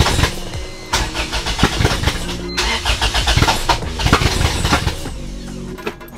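A Honda Civic with a swapped B-series engine starts up and runs, its loud broadband mechanical roar rising and surging over several seconds with a brief dip in the middle, no voices present.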